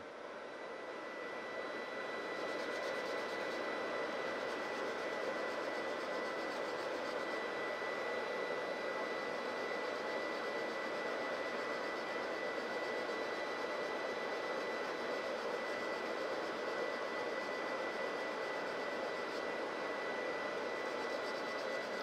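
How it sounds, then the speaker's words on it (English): Continuous broadband rush of sandpaper pressed against a small delicate wooden finial spinning on a lathe, a steady loud hiss with motor drone that holds evenly throughout without pauses or speech. "I'll just stop and sand with the grain."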